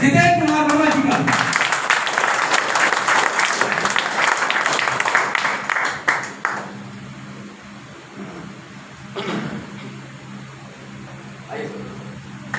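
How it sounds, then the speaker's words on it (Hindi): An audience applauds loudly to welcome a speaker at a business event, dense continuous clapping for about six seconds that then fades into room noise and scattered claps. "हमारे सबके लिए जोरदार तालियां होनी चाहिए।"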